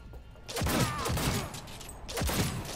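Pistol shots in the video game Cyberpunk 2077, a few sharp loud cracks with echoing tails and a brief mechanical rattle between them, close and forceful.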